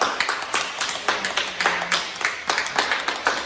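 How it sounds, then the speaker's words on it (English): Scattered hand claps from a small group at a staff meeting, uneven and moderately close, with a faint murmur of voices in the background. "now give yourselves a round of applause"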